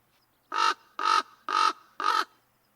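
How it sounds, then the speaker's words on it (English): A crow caws four times in an even rhythm, each call harsh, loud and close, separated by short silences. "Oh, here's a crow."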